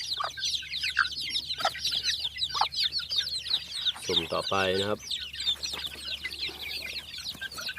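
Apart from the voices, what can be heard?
fighting cock and Mongolian black chicks in a pen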